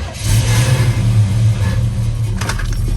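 A Chevrolet Monte Carlo SS fitted with a push start button cranks and fires up, the engine catching quickly and settling into a steady, loud mid-pitched run close by with a brief rev, no voices.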